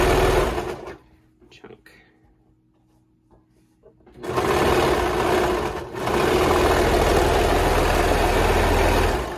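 A sewing machine runs along the seam of a tee, a steady mechanical whir after a quieter stretch, with a brief pause before it picks up again, while a person talks over it.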